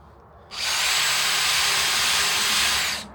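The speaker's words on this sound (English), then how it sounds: "use a step bit that drills it gradually" A power drill with a step bit bores through wood, giving one steady loud whirring grind for about two and a half seconds that starts and stops abruptly, close and alone.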